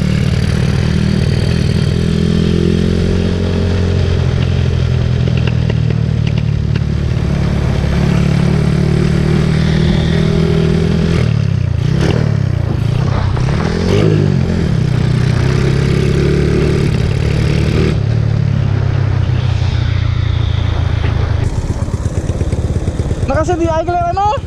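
Honda Wave 125 and Suzuki Smash 115 motorcycles at a drag race, engines droning and revving loud and close for a long stretch with clattering mechanical noise, while people talk over them throughout.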